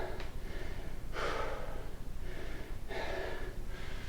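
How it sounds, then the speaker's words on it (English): Rhythmic heavy panting from people working out, several hoarse breaths in quick succession at a steady pace, faint and somewhat distant against a low background hum. "I can hear my family as well, puffing and panting in the background"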